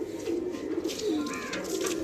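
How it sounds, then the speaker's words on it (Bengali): Soft pigeon coos rise and fall over a steady outdoor hiss, a few calls repeating across the short stretch with no talking. "এই যে বাঙ্কি কবুতর এখনো উঠতেছে"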